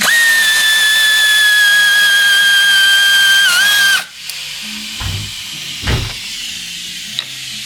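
Air tool whirring steadily at a high pitch while loosening bolts on a 2008 Land Rover Freelander 2, cutting off after about four seconds, followed by a few clunks and knocks nearby.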